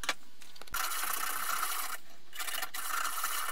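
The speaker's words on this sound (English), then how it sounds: "we prepared the surfaces by giving them a good sand" Bracket surfaces for a two-stage water rocket stager get a good sanding, heard as close, continuous rasping strokes with brief pauses between passes.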